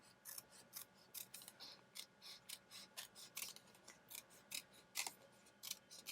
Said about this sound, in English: Tiny sharp scissors.